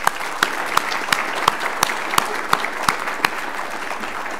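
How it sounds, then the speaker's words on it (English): Applause for the evening's speakers at an anniversary rededication event, a modest audience clapping with a few sharp, distinct claps standing out rhythmically over the steady patter. "If we could give them one more round of applause."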